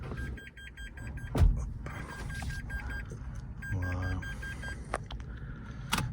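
A Dacia Spring Extreme 65hp electric car starts up with a series of rapid chime beeps in two bursts, a soft mechanical thump and clicks inside the quiet cabin.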